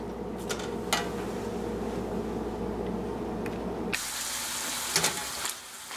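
Frozen ground meat sizzles in a pan for Texas goulash, a steady close hiss with a few light clinks, the sound shifting brighter partway through.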